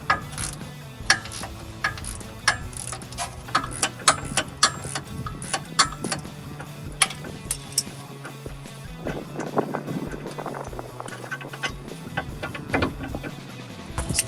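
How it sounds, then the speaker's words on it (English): An 18mm ratchet clicking steadily as it turns a shock bolt with a flag nut on a Jeep Wrangler JL 4-door, rapid close metallic ticks repeating throughout with no talk. "this one has a flag nut on the opposite side of the bolt, so you do not need the wrench, just the ratchet"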